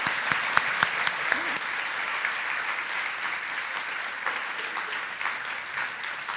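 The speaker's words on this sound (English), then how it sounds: "please, a big warm round of applause for our panelists" An audience at a panel discussion on faith in the modern world claps warmly and steadily, a sustained round of applause with a few sharper claps at the start.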